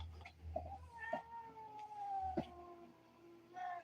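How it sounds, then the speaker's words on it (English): Several cats meowing and caterwauling in drawn-out, wavering cries, some overlapping, heard fairly faint and at a distance, with no talking. "Do you hear all these cats?"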